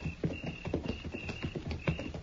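Horses' hooves clip-clopping as a western radio drama sound effect, a steady, close, moderately loud rhythm of hoof strikes with no voices over it.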